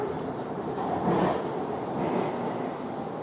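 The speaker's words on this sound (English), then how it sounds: "I just got off the train." A train at a station, heard as a steady, fairly loud rumble with a slight surge partway through.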